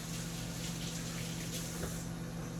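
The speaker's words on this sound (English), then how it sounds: "let me wash my hands off here" Tap water runs in a steady, faint stream as hands are rinsed in a kitchen sink after handling ground turkey, with a low continuous hum beneath it and no talking.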